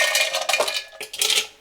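Frozen ice cubes, 200 grams, tumble and rattle inside a Thermomix bowl in a few bright clattering bursts, close and loud with no talking.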